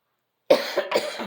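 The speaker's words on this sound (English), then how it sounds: "I haven't coughed in ages, but of course right now I need to" A single person coughs several times in quick succession, close and fairly loud, with short harsh bursts and no talking.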